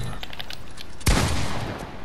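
A single sharp gunshot in Fortnite cracks out partway through, loud and close, followed by a decaying tail over steady in-game background noise.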